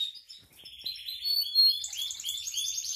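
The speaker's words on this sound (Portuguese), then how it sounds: "os canários estão tudo cantando" Several canaries sing together in a breeding aviary, bright overlapping chirps and trills running steadily and fairly close, with no talking.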